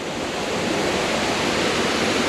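Waterfall at Crowley's Ridge State Park, a steady broadband rush of falling water, close and even throughout with no voices.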